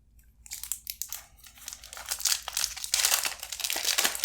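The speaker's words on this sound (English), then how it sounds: "And these packs are so much easier to open than Magic the Gathering packs." A Pokemon trading card booster pack wrapper crinkles and tears open up close, a continuous run of crisp crunching and rustling foil plastic with no talk.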